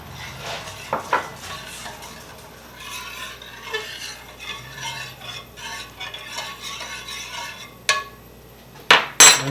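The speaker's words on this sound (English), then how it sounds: "Now we're going to add in about a half a cup of Cabernet." Half a cup of Cabernet wine goes into a hot cooking pan, giving a soft pour and light sizzle with scattered utensil scrapes and clinks against the pan. Louder clanks come near the end, with no speech.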